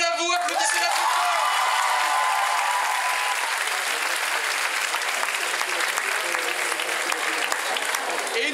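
Sustained applause from an event audience honouring a jury member, dense, steady clapping filling the whole stretch, with a voice speaking briefly at the start.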